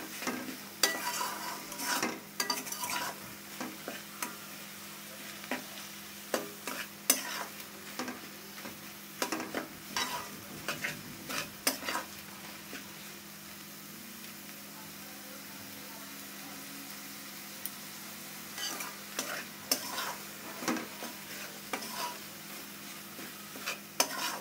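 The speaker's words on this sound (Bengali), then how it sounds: "ভালো করে ভেজে নিতে হবে চিংড়ি মাছগুলো," Ground shrimp paste fries quietly in a pan, a faint sizzle under repeated clicking and scraping stirs of a utensil against the pan that come in bursts, then pause, then resume.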